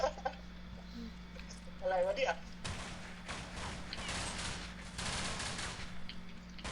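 Automatic gunfire from a video game deathmatch, with bursts from weapons such as an MG3 or M249 rattling in dense runs through the middle and end, over a steady game hum and with a short voice sound early on.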